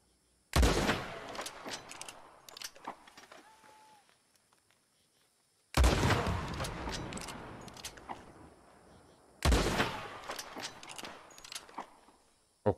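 Gunfire in Red Dead Redemption 2: three loud, sharp shots or short bursts spaced several seconds apart, each with a booming crack and a ringing, echoing tail that fades into near silence.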